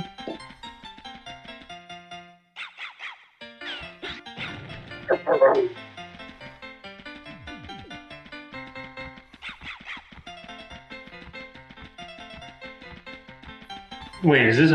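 Dog barking and yipping in the N64 game Rat Attack, repeated sharp yaps and whimpers over bouncy game music, with a louder burst near the end.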